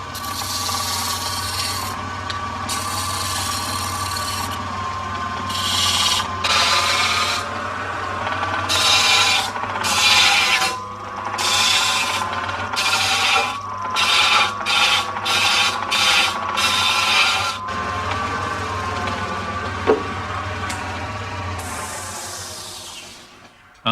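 A wood lathe hums steadily while a turning tool shapes the centre pillar of a tripod table leg, the cutting scraping in repeated rasping bursts over the motor drone.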